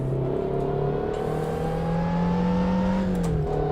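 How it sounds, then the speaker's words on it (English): Lotus Elise engine cruising slowly in the racing game Assetto Corsa, a steady low drone with smooth rising and falling harmonics, held continuously at a moderate level with no talk. "the Lotus Elise isn't really much of a great sounding car to begin with"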